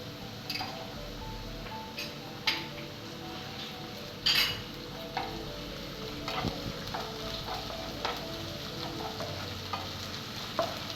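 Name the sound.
onion and ginger garlic paste frying in oil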